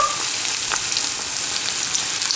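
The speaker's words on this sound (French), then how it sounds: "je vais la remettre dans le bain d'huile pour qu'elle continue à cuire" Sfenj dough frying in a deep bath of hot oil, a loud, dense, continuous sizzle and bubbling heard up close with no talk.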